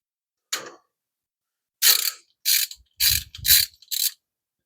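Ratchet clicking in short bursts while a belt adjuster is backed off a 5.7 Hemi engine, about five quick, close, crisp runs of pawl clicks after one earlier brief burst, with no talking.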